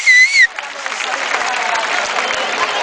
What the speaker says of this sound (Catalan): Rogelio, un fort aplaudiment per ell.